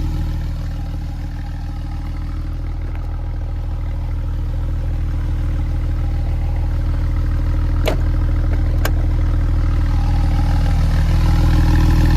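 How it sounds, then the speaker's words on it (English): A 2018 Porsche 911 Carrera 4S exhaust idles on its sports setting with a deep, steady burble, loud and close, punctuated by two sharp clicks. "I want you all to hear this exhaust."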